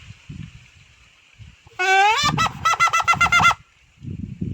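A handmade call of split wood with a leaf inside, blown to imitate a hen or rooster crowing: a burst of loud, nasal, honking wavering notes, then several quick choppy pulses, set between quiet stretches with faint rustling.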